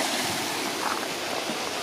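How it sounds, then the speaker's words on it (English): Nancytown Creek flowing under a bridge on a hilly hiking trail, a constant close rush of moving water, broadband and steady with faint wind-like texture, no talking. "That's where Nancytown Creek goes under the bridge here"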